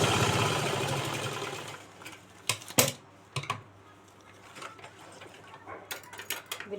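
A sewing machine stitches a handbag made from a plastic sack, running for a couple of seconds up close before stopping, followed by sharp clicks and mechanical handling noises.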